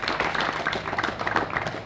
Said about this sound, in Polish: Też dla niego wielkie brawa.